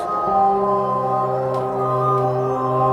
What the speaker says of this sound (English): that sound is an Arturia plugin